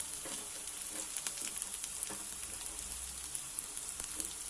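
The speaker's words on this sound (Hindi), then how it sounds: "देख सकते हैं हमारे वेजीज भी यहाँ पे फ्राई हो रहे हैं।" Vegetables fry in a pan for street-style Chinese noodles, a soft, steady close-up sizzle with light crackles and pops throughout.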